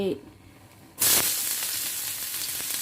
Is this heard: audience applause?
no